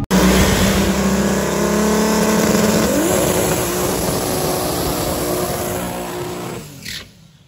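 At Velopark, a turbocharged Chevrolet Opala and a twin-turbo Chevrolet Camaro run in a Pro Mod drag race. Engines roar loud and close at full throttle, then fade away sharply near the end.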